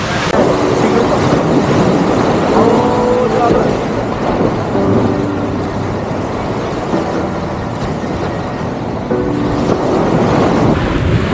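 Sea waves roll onto a Kerala beach under heavy wind, a loud continuous rushing roar with buffeting microphone noise and faint voices in the background.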